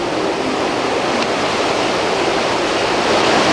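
Whitewater rushing through the number 5 and 6 rapids of the Umkomaas River during a canoe marathon, a loud, steady roar of churning water filling the scene without a break.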